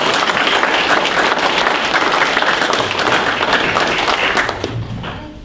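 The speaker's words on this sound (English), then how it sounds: "let's give another applause to our candidates" Audience applause for the candidates at a chamber of commerce meet-the-candidates forum, dense sustained clapping from a room full of people that holds steady and then tapers off near the end.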